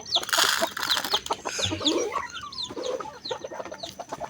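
Several chickens cluck and squawk nearby at morning feeding time in a busy, irregular chorus of short calls, fairly loud and continuous.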